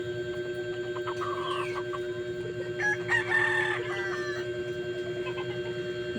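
Pet chickens on a quiet rural property, with a rooster crowing loudly over steady background clucking and a constant low hum.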